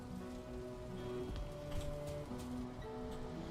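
Steady rain falls in the Valheim survival game, a dense continuous patter with drops hitting surfaces, mixed with soft tonal game music lines and no talk.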